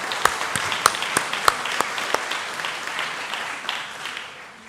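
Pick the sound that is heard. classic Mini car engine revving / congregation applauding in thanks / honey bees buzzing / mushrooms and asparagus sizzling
congregation applauding in thanks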